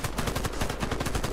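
Rapid automatic gunfire from the online shooter game Warface rattles in a fast, even burst of loud shots lasting the whole moment, with no talking over it.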